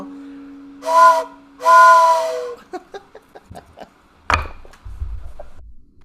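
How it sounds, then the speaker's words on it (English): An authentic train whistle sounds two loud, breathy, chord-like blasts at a live performance, the second longer than the first, followed by scattered clattering knocks and a dull thump. "we got an authentic train whistle"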